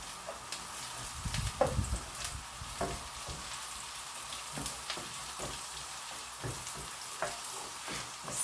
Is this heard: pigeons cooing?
no